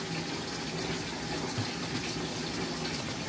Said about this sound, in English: I'm running some water on my